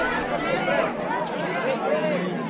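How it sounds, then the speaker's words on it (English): Crowd chatter at Moir Point viewpoint in Kodaikanal, a misty hill-station lookout, with many overlapping voices forming a steady, close, busy babble throughout. "See the crowd."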